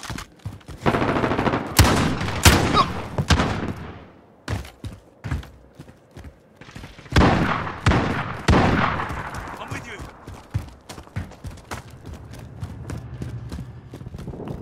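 Gunfire in Call of Duty: Modern Warfare during night-vision mode, sharp loud shots and rapid bursts in irregular clusters, some close and some scattered, with brief radio-style voices between them.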